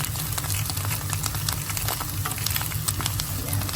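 Garlic sizzling in a frying pan while being stirred, a steady dense crackle and hiss with a low pulsing hum underneath, close and constant.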